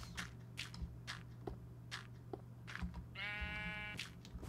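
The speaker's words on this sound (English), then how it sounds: "And these sheep are becoming a nuisance." Blocky sheep in Minecraft bleat in short wavering calls, one clear harmonic bleat standing out near the end, over soft scattered footstep clicks and a low steady hum.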